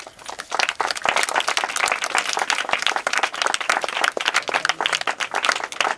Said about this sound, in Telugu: ప్రభుని గణపరుతూ చప్పట్లు కొడుతూ